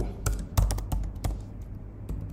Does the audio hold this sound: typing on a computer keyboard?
yes